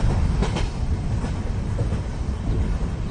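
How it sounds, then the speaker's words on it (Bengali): A train rolls into a station with a steady, loud rumble of wheels and carriages, and no voices are heard over it. "কিছুক্ষণের মধ্যে ট্রেন স্টেশনে এসে থামল।"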